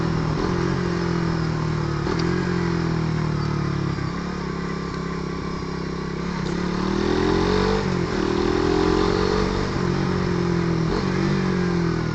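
A Suzuki Raider 150 motorcycle engine with a 14-43 sprocket set drones steadily, then its pitch dips and swells as it revs and winds down under engine braking, loud and close.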